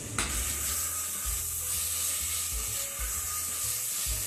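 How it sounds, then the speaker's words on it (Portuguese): Steady crackling sizzle of chicken frying in a hot pan for bobó de frango, continuous and close, with no voices. "O franguinho está fritando"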